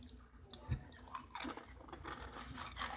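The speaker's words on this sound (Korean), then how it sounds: "쩝쩝 소리 되게 죄송하고요" Crunchy churro snack being chewed close up, a run of crisp bites and crunches with soft mouth noises, no talk.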